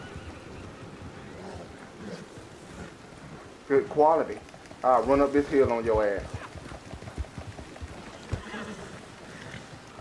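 A horse in Red Dead Redemption 2 whinnies in two loud bursts partway through, with someone talking over and around the calls and soft hoof and ambient game noise underneath.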